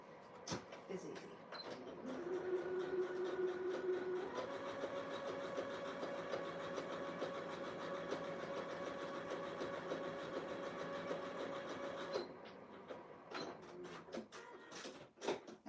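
A sewing machine runs a continuous straight stitch through a fleece robe belt, a steady mechanical whir lasting about ten seconds, preceded and followed by small handling clicks and quiet room noise.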